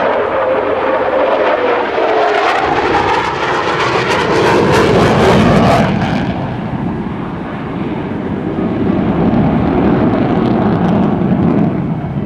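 An F-15E Strike Eagle fighter jet makes a low-angle straight pass at an air show at Hampton Roads. The engine roar is loud and steady, swells to a peak, then shifts to a lower, rumbling tone as the jet passes and moves away.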